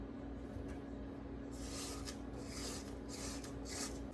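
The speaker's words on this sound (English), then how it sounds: "I'm gonna scrape down the sides again." A spatula scraping down the sides of a mixing bowl while baking treats, giving repeated soft rasping strokes over a steady background hum, close and fairly quiet.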